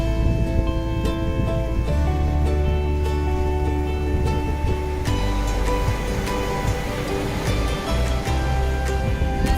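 Steady, loud ocean surf washes continuously as harbor seals are released from small cages onto the shore, the broad roar of breaking waves filling the scene with no voices.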